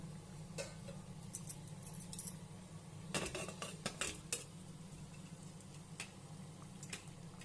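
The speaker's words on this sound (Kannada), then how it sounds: "ಈಗ ಇದಕ್ಕೆ ಮುಚ್ಚಳ ಹಾಕೋಣ" A lid goes onto a pot of boiling avarekalu rice, making a cluster of close metallic clinks and taps midway through, with a few scattered ticks and quiet background otherwise.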